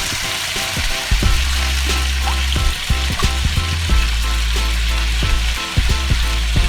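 Cabbage frying in a pan for a vegetable curry (kuah lodeh), a steady loud sizzle with intermittent stirring clatter and scraping throughout, no voices.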